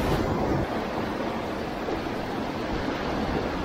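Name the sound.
ocean waves breaking on beach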